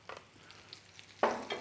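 Mushrooms stirred into a pan frying with bacon, giving a soft scraping stir early on, then a sudden loud burst of sizzling near the end as they hit the hot fat, with a second sizzle just after.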